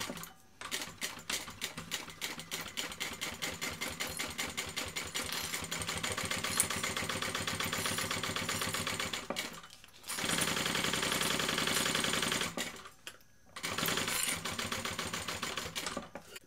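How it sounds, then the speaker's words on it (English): A sewing machine top stitches an eighth of an inch from the edge of a thick BeHip 2.0 bag in long rapid bursts of fast needle chatter. The bursts are separated by brief pauses, with no voices. "So I'm just going to top stitch that an eighth of an inch away from the edge."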